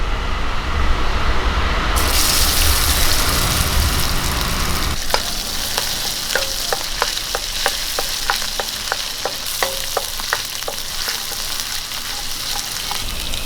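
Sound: crushed ginger and garlic frying in coconut oil

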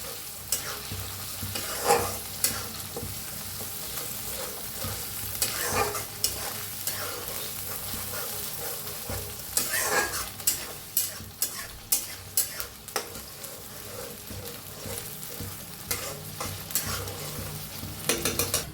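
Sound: green chili and curry leaf paste frying

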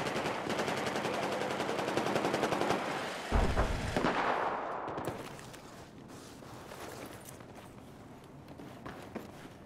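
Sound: gunfire in Battlefield 4 video game

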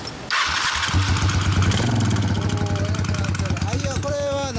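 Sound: custom Honda Steed 600 motorcycle engine revving

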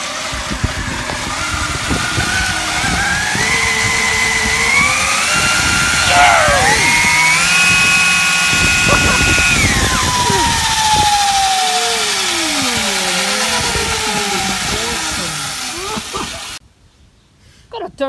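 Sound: DIY triple-motor electric bike motors revving under throttle

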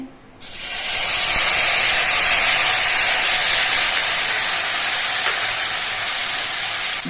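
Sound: green chili paste added to frying spices in hot oil, sizzling

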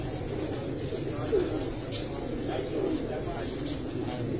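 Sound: pigeons cooing in the dark

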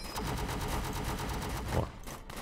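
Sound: gunfire from the video game World War Tower Defense

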